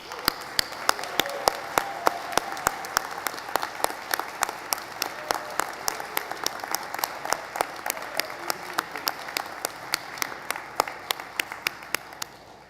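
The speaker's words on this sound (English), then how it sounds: "please join me in giving a round of applause for the mayor and members of Regional Council" Audience at the Halifax Regional Council swearing-in ceremony applauds the mayor and council members, a long, moderate round of clapping from a crowded room, with sharp individual claps standing out near the microphone before it tapers off.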